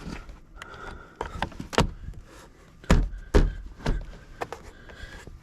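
Plastic door card clips on a 2008 Ford Mustang driver's door snap into place, giving several sharp, close clicks and thumps spaced irregularly over a few seconds, with light handling rustle between them.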